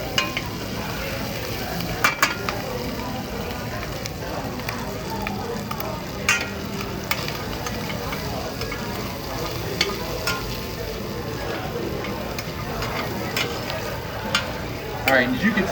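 Food sizzles and toasts in melted butter in a pan, giving a constant close frying hiss with occasional light stirring taps and clinks.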